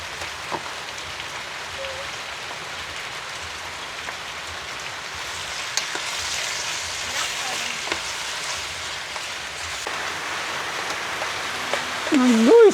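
Chicken sizzles as it sautés in a pan at an outdoor mini farm during a storm, a steady frying hiss blended with heavy rain, and a voice rises briefly near the end.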